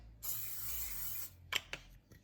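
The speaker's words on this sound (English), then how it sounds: "I'm gonna spray some olive oil on it" Olive oil sprayed from a pump can onto a heated nonstick pan, a steady close hiss lasting about a second, followed by two short, sharp spritzes.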